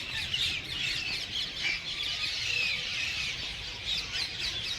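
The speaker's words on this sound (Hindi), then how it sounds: "यहाँ पर पक्षियों के चहचहाने की बहुत अच्छी आवाजें आ रही थी" Birds chirping outdoors in Jhunjhunu, a dense steady chorus of high twittering calls over a low broadband background, fairly close and continuous with no talk.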